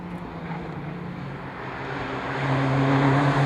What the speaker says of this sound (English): quintet of cars coming out of Tower now